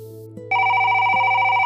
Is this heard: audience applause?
no